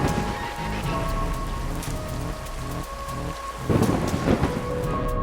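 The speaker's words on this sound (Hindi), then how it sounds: "ये तूफान इतना तेज क्यों है?" Thunderstorm with heavy rain pouring down steadily, a dense wash of drops with a loud thunder rumble swelling near the end, with no talking.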